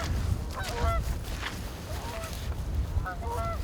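Honking bird calls on an Iowa opening morning during turkey season, several short nasal bursts in small groups over a low rumble, no speech.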